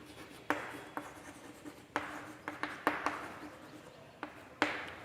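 Chalk or marker strokes on a board during a differential calculus lecture, a series of sharp scratching taps and rubs spread unevenly over several seconds, close and fairly quiet in a calm room.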